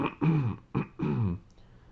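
A woman clears her throat repeatedly, three close rough rasping bursts in quick succession, near and fairly quiet, then silence.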